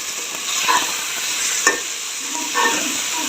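Fried okra being stirred into a curry in a pan, a steady sizzle with soft scraping strokes and a few louder clinks, close and alone without talk.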